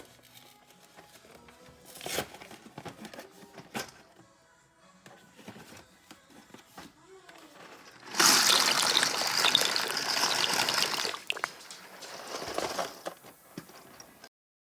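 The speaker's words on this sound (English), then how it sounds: "Now that our water is nicely boiled, we're gonna go ahead and add the pasta." Pasta going into a pot of boiling water while cooking chicken parmesan: soft bubbling and clatter, then a loud rushing splash and churning that gradually settles, with scattered light knocks and no talk.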